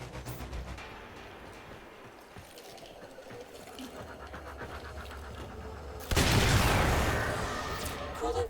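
Gunfire in the Warframe video game as the player shoots locked-down coolant cells on a Mercury mission, a busy run of game weapon and effect sounds swelling into a loud, dense burst of shots near the end.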